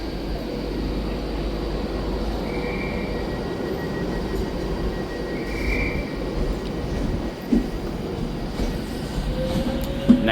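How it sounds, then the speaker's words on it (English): An Avanti West Coast Class 390 electric train pulls out of Manchester Piccadilly toward London Euston, giving a steady loud rumbling roar with a faint whining tone and occasional wheel squeals, heard with no speech. "the Avanti West Coast 390 is now departing with the 1354 Avanti West Coast service to London Euston"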